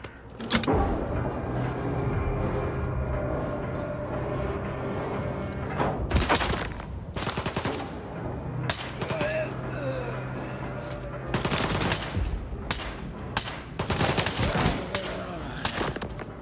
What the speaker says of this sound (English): Insane shooting.